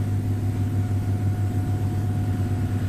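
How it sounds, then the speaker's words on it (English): A military parade commander's vehicle at the REME 50th Anniversary Parade in Sennelager, a steady low engine rumble with a constant hum, moderately loud and unchanging, no voices. "Now we can see the parade commander's vehicle, the vehicle parade commander's vehicle, coming down from our left towards the dais, leading the vehicle drive past"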